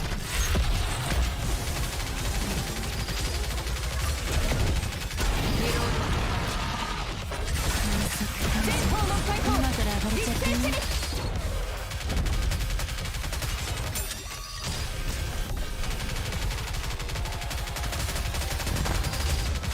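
Sustained gunfire against a boss in the video game Nikke, dense rapid shots and mechanical clatter running continuously and loudly throughout with layered game effects.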